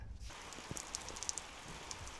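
Rain falls steadily on a shipping-container workshop, a faint, even patter with scattered sharper drips and taps striking metal nearby.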